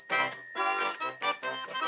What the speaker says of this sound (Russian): А это знаменитая саратовская с колокольчиками.